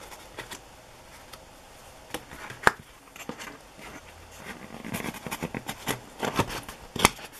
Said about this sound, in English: Cut this apart so we can look at it.